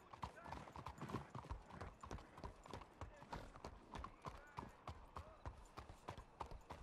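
Horse hooves clip-clop in a steady, brisk rhythm on a hard surface inside a video game, loud and close, with voices talking over the hoofbeats and an occasional snort or whinny.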